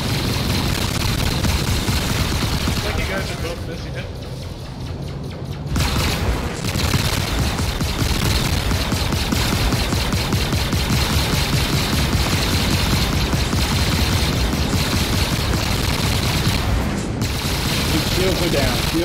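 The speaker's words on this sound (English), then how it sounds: "All right, I'm fired out. Opening fire." Rapid sustained gunfire from a fighter craft in a space combat video game, a dense unbroken stream of shots over engine roar with a couple of brief dips, while pilots talk over the radio throughout.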